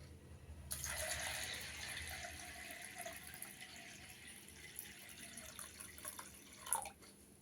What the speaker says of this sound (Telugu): ఇప్పుడు నీళ్ళు పోసుకుంటున్నానండి